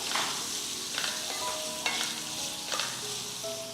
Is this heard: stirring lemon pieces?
yes